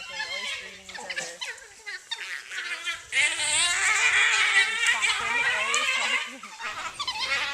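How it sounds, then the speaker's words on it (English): African wild dogs eat a frozen meat treat on a hot day, giving off excited high-pitched whines, squeals and chattering calls that run almost continuously and close by, along with a few low background sounds. "African wild dogs are canids, and they obviously think this stuff is yummy."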